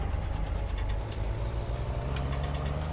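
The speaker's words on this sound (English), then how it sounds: "engine shouldn't sound that way" An odd-sounding tractor engine in the Farming Simulator 19 video game idles with a rough, knocking low rumble, steady and close, running alone without speech.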